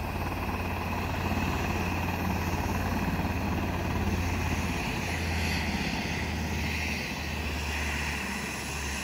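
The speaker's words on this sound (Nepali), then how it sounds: "यहाँ चाहिँ हेलिकप्टरहरू प्राय दिनमा एउटा दुईवटा आइरहने गर्छन्" An army helicopter drones over a large military camp, a loud steady rotor and engine roar with a rhythmic low thump that holds throughout, close and unbroken, with no talking.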